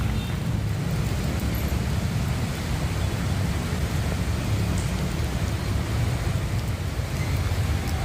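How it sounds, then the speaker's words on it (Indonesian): Heavy rain pouring down on flooded streets in Jakarta, a loud, dense and unbroken hiss of water filling the whole stretch, with no voices. "Hujan deras yang mengguyur Jakarta membuat jalan ini tergenang setinggi 30 cm."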